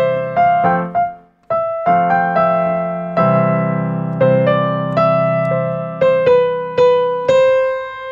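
Third phrase of an electronic melody played on a bright synth lead over sustained chords, a series of clean, evenly spaced notes with one brief gap, loud and alone.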